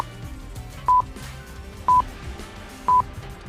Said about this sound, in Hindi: मेहुल ये समझ जाता है और फोन का लॉक ओपन कर लेता है।